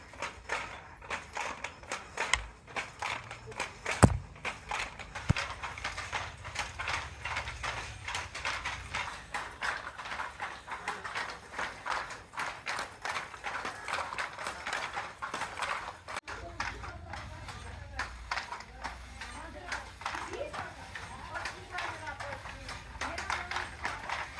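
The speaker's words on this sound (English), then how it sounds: "Notice that these looms are not electric and are totally powered by the weavers themselves." Hand-powered, non-electric textile looms in a Nepali weaving workshop clack in a steady rhythm of wooden knocks throughout, with a few sharper thumps, while someone talks over the noise.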